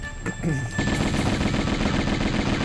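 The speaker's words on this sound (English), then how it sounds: "I'm going to use my Uzis for these two because these two are quite difficult to pick off." Rapid automatic Uzi fire in the Tomb Raider video game, a dense sustained burst of loud, close shots running nearly continuously after a brief quieter start.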